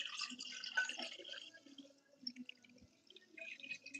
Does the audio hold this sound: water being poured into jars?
yes